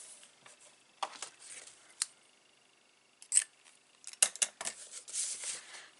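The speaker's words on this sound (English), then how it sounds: "So I'm just going to fetch my scissors in and remove that" Scissors trim a small overhang of cardstock on a Stampin' Up treat box, giving a scattering of quiet close snips and paper rustles with short pauses between them.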